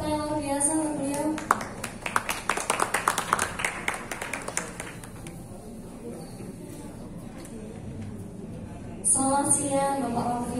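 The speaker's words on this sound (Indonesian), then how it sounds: "Kita kasih tepuk tangan luar biasa untuk beliau." Applause from a crowd at a Paragon Ramadan prize-draw event, a burst of sharp hand claps that builds, then thins and fades out, with speech before and after it.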